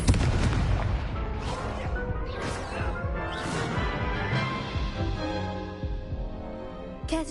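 A Confringo spell blast in the Hogwarts Legacy video game hits with a loud booming impact, followed by a long, dense, rumbling crackle of explosive effects that fills the whole stretch without talk.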